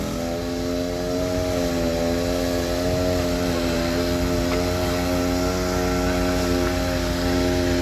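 A tractor engine strains while pulling a rope-rigged tree during teak harvesting, giving off a loud, continuous droning hum with strong harmonic tones that stays steady throughout.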